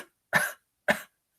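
Two short, sharp coughs sound close and clear, separated by about half a second of silence.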